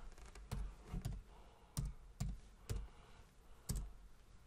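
Light keystrokes on a computer keyboard come as a handful of sharp, irregular taps, quiet and close, with brief pauses between them and no talking.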